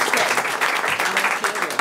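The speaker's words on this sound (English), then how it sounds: "Let's give these 2 young people a round of applause." Applause for two young people at a county board of education meeting, a dense, steady round of clapping from the audience filling the room for a couple of seconds.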